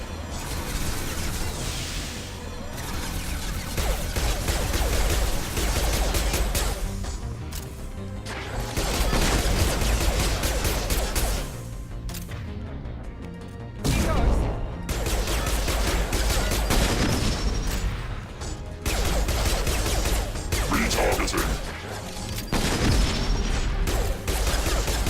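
Dense bursts of pistol gunfire from squad combat in the sci-fi shooter game Mass Effect 2, loud and near, with crashes and booms mixed into a busy battle scene.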